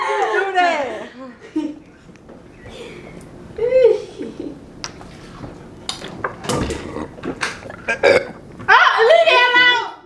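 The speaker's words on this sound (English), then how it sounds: "Somebody burped." Loud, drawn-out burps after gulping from a two-liter soda bottle, several of them rumbling out between excited family voices and laughter, with one long belch at the start and another near the end.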